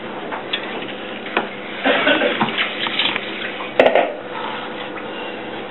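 Dishes are washed under running water at an outdoor cooking spot by the Sarıyar dam, with a steady splashing stream and occasional clinks of utensils and pots. No one speaks.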